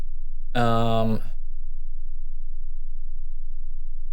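PO 400 budget modular synthesizer patched through its filter to the output, sounding one short buzzy harmonic tone of about half a second, then near silence with a faint low hum.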